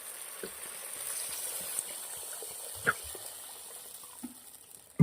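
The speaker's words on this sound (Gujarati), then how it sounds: "હવે હું પાણી નાખું છું." Water is poured into a pan of macaroni sautéed for pasta soup, a soft continuous gush with a few light clinks and bumps.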